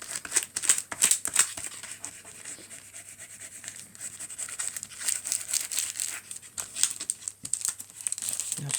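White paper spread out and crumpled by hand while making a New Year card, with a steady crinkling and rubbing texture throughout, close and fairly quiet, plus a few sharper rustles.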